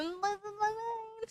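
A domestic cat gives one long, drawn-out meow, close and clear, its tone rising slightly and wavering over more than a second, then ending in a brief chirp.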